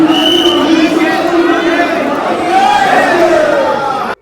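Large crowd of devotees at the Khatu Shyam temple in Rajasthan, a dense, steady murmur of many voices chattering close by, with louder individual voices rising above the din throughout.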